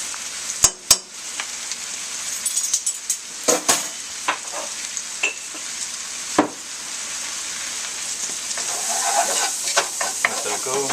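Flour cooking in melted butter for a bechamel in a pan, a soft continuous sizzle broken by sharp scrapes and clicks of a utensil stirring against the pan, close and uneven in rhythm, without speech.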